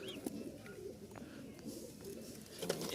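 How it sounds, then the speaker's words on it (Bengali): Pigeons coo softly and repeatedly at a pigeon seller's loft, low rolling calls under a constant hum, with a few faint chirps and clicks scattered through. "এই হচ্ছে কবুতর"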